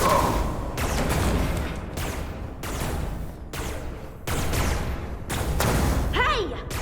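Rapid bursts of energy-weapon fire crackle through a firefight in Star Trek: Resurgence near a matter-antimatter reactor and warp core, the volleys loud and sustained across the scene with brief lulls between bursts.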